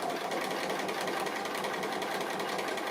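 A sewing machine stitching down fabric applique with dark grey thread, running at a steady fast whirring rhythm, close and continuous, with no talking.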